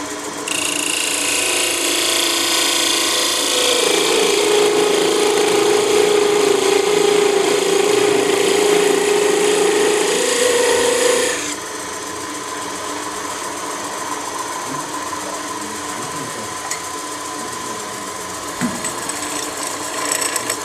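A wood lathe spins a Christmas tree ornament while a parting tool cuts it, giving a loud, steady whine with a rising cutting tone. The cutting stops near the midpoint and leaves a quieter motor hum.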